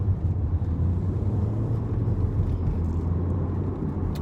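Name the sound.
road traffic passing in the evening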